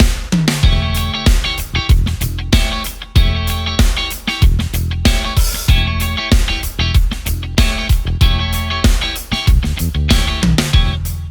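Funk guitar rhythm exercise with choppy, tightly muted sixteenth-note strumming and short stabbed chords repeating in a steady groove over a backing beat, loud and continuous with no talking.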